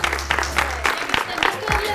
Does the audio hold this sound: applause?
yes